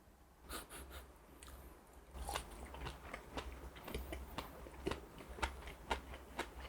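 Crunchy herring roe is bitten and chewed up close, soft crisp pops and crunches repeating unevenly amid faint breathing, quiet and without talking.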